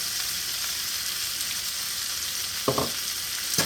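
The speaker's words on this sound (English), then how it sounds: "we're going to cook these down until they're translucent, until the onions are translucent, until everything's soft" Onions and mushrooms with pepper cooking down in a pan for Salisbury steak, giving an even, low hissing sizzle with two short clattering stirs toward the end, no voices.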